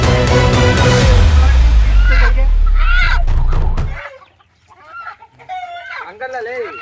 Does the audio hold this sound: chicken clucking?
yes